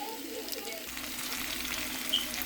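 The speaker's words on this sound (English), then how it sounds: "So you're going to fry the onions with the corned beef." Onions frying with corned beef in a pan, a steady close sizzle with light stirring and no talk.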